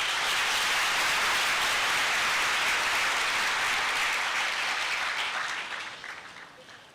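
Audience applause following a speech at a Kenyan political event, a dense, sustained wash of clapping that holds steady and then fades out toward the end.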